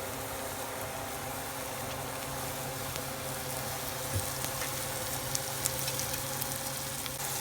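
Lion's mane mushrooms sautéing in butter and dry sherry, a loud, steady, dense sizzle filling the whole stretch, with only a few faint ticks on top.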